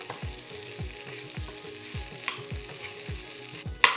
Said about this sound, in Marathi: आता हे आपण मॅश केलेला बटाटा टाकायचा. छान अशी परतून घ्यायची भाजी.